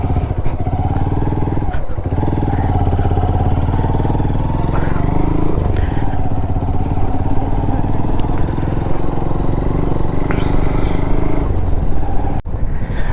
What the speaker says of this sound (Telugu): ఇలా బైక్లు ఎక్కి పోనిచ్చొచ్చురా బైక్ పోతుందిరా